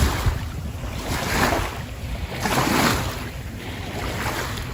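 Outdoors at the shore of Lake Weir, a continuous rumble of wind buffeting the microphone mixes with the soft wash of lapping waves, swelling and easing gently throughout.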